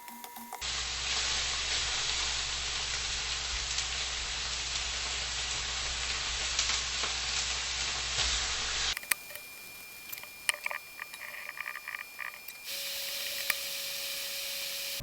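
Beef sears in hot canola oil, giving a loud, dense, steady sizzle for several seconds close by. It then drops away to quieter crackles and clatter with bursts of hiss, and no one talks.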